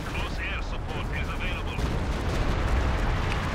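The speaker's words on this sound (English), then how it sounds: "artillery's going down" Artillery pounds the battlefield in Company of Heroes 2, a dense, continuous rumble of blasts and gunfire under a commentator's voice.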